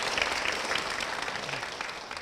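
Applause from a church congregation welcoming a guest, a steady wash of many hands clapping at moderate distance, continuous for the whole stretch with no talk.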